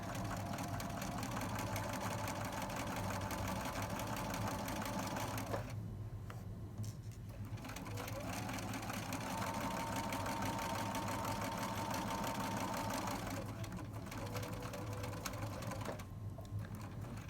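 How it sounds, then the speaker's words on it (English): A sewing machine stitches down the side of a drawstring backpack pocket, a fast, steady mechanical whirr running in several long bursts separated by short pauses, fairly quiet and with no talking. "And sew all the way down one side of the pocket."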